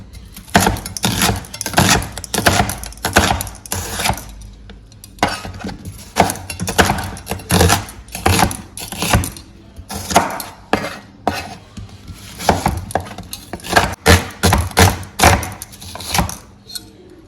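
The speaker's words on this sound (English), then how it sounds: "We'll start by shredding our onions." Onions shredded on a wooden board give a loud, quick run of knife chops and scraping clicks, coming in rhythmic bursts with brief pauses throughout.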